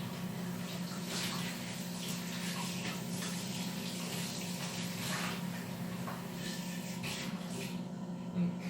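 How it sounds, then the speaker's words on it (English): Hands being washed under a running kitchen tap while preparing meatloaf, a steady close hiss of flowing water lasting throughout, fairly quiet. "get my hands washed"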